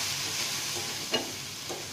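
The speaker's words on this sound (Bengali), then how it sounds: "আর চিংড়ি মাছটা বেশি ভাজা লাগবে না" Small washed shrimp sizzle lightly in a pan with oil, a steady soft frying hiss with a couple of brief stirring scrapes, no voices.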